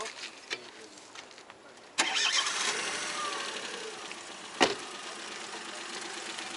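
A car engine at an open-air used car market in Beruniy, sounding as a steady mid-pitched rumble that turns louder partway through, with a sharp clank near the end and faint voices in the background.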